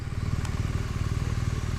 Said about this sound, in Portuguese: Você acha que eu vou parar a moto assim?